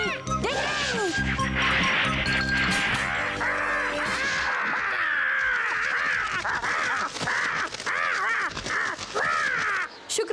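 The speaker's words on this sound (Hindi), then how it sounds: "वही कौवा है ना जो तुम्हें काफी देर से परेशान कर रहा था?" Crow cawing in a Ninja Hattori cartoon, loud repeated harsh caws over busy cartoon music and effects, continuous throughout with no talk.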